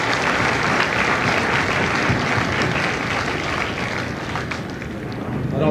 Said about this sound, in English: please join me in a round of applause for the drill instructors and families of Delta Company